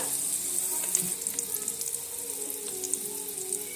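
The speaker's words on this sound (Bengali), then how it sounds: "তেল এখানে গরম হয়ে গেছে। তেলের মধ্যে আমি সেই আলুগুলো আমি দিয়ে দিচ্ছি।" Potatoes, seasoned with salt and a pinch of turmeric, frying in hot oil in a pan, giving a steady close sizzle and crackle throughout with occasional pops and light stirring clinks.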